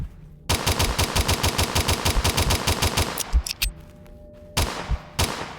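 Rapid automatic gunfire from a video game weapon shot at a wall, a loud, close, evenly spaced burst of about three seconds followed by a few scattered single shots and a short final burst.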